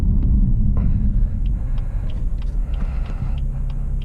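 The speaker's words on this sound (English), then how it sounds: "launch control, release the brake, and it's probably going to spin up its wheels" BMW M3 Competition launching under launch control, a loud, steady engine roar and low rumble filling the whole clip, heard from inside the car.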